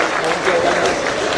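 Audience at a public event in Bhopal attended by the chief minister clapping to welcome guests on stage, a dense steady applause under a loud announcer's voice.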